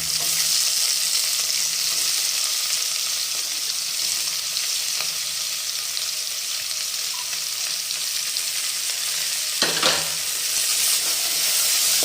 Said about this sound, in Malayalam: നമുക്ക് ഒരു 3 ഉള്ളി കട്ട് ചെയ്തിട്ട് 3 ഉള്ളി ചേർത്ത് കൊടുക്കാം.